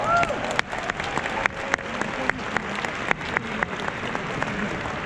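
A large convention audience applauding together, dense sustained clapping filling the hall with a few louder individual claps standing out.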